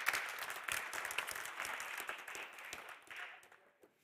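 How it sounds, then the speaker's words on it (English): An audience at a public-safety expert talk applauds Chief Jack Donahue, fairly faint and roomy clapping that holds steady and then thins out toward the end. "And a big round of applause to Chief Jack Donahue."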